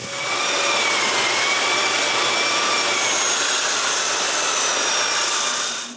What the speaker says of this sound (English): The bottom is full of dry glue. I don't understand. Because of this, I'm forced to sand it.